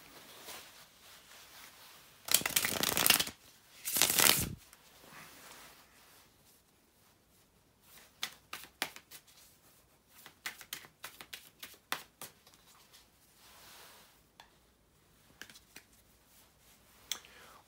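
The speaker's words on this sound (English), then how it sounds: "to shuffle the tarot cards" Tarot cards being shuffled nearby: two loud riffling bursts early on, then scattered light snaps and clicks of cards being handled and cut.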